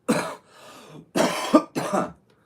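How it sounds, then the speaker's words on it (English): Three harsh coughs, the last two close together, with a short breathy sound between the first and second. "And I can feel another cough coming."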